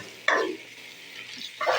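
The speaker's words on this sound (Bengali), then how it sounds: "এটা ভালো করে আমি এখন একটু ভাজা ভাজা করে নেবো" A spatula stirs rice, lentils and meat as they fry in a pot for khichuri. Two brief scraping sweeps sound close, and a soft sizzle runs beneath them.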